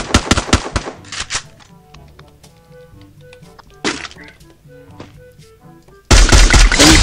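Gunfire in the Free Fire battle royale game, with a rapid burst of close, sharp shots at the start, scattered single shots and thuds in the middle, and a loud, dense blast of fire at the end.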